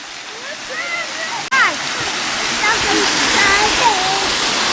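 A big waterfall at Hanging Rock State Park roars steadily and loudly throughout, with birdsong and a voice audible over the rushing water.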